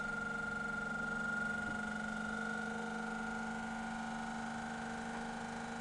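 A vibration rig runs at 1400 rpm, shaking a threaded rod fitted with nuts. It makes a steady, loud mechanical hum with a sustained whine and a buzzing rattle, continuous and unchanging, with no voices.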